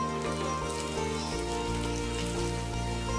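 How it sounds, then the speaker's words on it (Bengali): Chopped ginger and garlic, hing and whole cumin fry in ghee with a steady, bright sizzle and crackle, while a low tonal hum runs underneath. "ঘিয়ের মধ্যে দিচ্ছি আদা কুচি এবং রসুন কুচি, সামান্য পরিমাণ হিং, গোটা জিরে। এই উপকরণগুলো ভেজে নিচ্ছি।"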